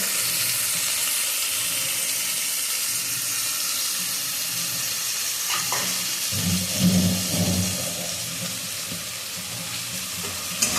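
Eggplant and shrimp fry in a pan with a steady, bright sizzle, joined by louder clattering and stirring bumps midway through, all close and without talk.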